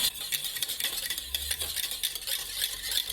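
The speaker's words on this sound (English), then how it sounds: "So I'm going to lower the heat down to low and continue whisking this now." A whisk scrapes and taps rhythmically against a pot of thickening lemon curd on low heat, quick metallic strokes repeating close up with no talking.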